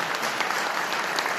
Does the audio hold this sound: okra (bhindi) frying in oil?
no